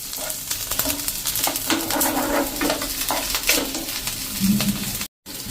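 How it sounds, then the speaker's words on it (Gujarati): Small pieces of chili and garlic sizzle and fry in hot oil in a pan, a steady soft crackle with occasional stirring clinks, close up and without talk. "એને આપણે થોડુંક આ રીતે તેલમાં કૂક કરી લેશું."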